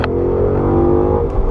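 A Ford Mustang V8 revs hard and close, a loud, steady engine roar with strong harmonics holding throughout, swelling slightly near the end.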